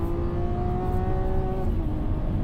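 A McLaren supercar engine with a twin-turbo V8 character revs up high toward its 8,500 rpm peak, a loud, close, steady rising drone with strong harmonics and no talk over it.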